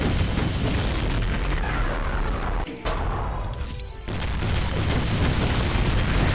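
Heavy rocket blasts in Doom rumble loudly and almost continuously, with booming impacts and crashing debris, a brief gap of near-silence midway before the barrage resumes.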